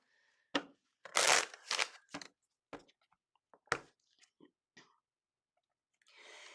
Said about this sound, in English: I'm giving you a good shuffle, Yolanda.